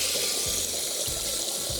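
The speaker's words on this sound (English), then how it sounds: "All you need to do is fill up a watering can with water" Water pours steadily from a tap into a watering can, a loud, even rushing gush that stays constant throughout.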